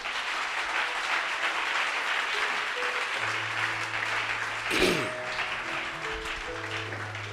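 A church congregation applauding and acclaiming the Lord, sustained dense clapping from many hands in a reverberant hall, with a brief louder burst midway and tones from instruments underneath.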